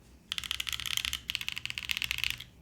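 Quick bursts of crisp, clacky typing on a Mode Loop mechanical keyboard fitted with lubed stabilizers and Lotus keycaps, loud and close. A short pause splits two runs of keystrokes, with no voice over them.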